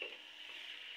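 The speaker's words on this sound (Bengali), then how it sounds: "এইভাবে লাড়তে থাকবো, মাংসটা কষিয়ে নেব" Chicken being stirred and fried in a pan, a brief, fairly quiet, steady sizzle with a light scrape at the start and no voices.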